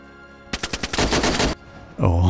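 Gunfire in the video game DayZ: a quick string of about five loud separate shots, then a dense burst of rapid automatic fire lasting around a second, then a cut to other sound.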